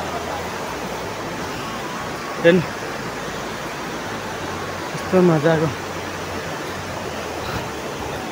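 Namaste Waterfall in Dhankuta, Nepal, pours in a steady broadband roar that fills the whole clip, with a couple of brief voices rising over it.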